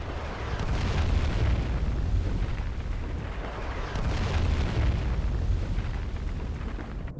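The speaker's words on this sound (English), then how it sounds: "they deployed their own railstorm cannons and began bombarding the fortress" Railstorm cannon shells from the Foxhole war game explode against a fortress wall in rolling, continuous booms, with two big surges of blasts and no voices.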